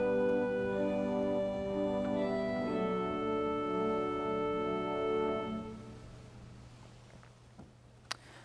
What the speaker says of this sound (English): Reeds sound like this, and they can be used as solo sounds.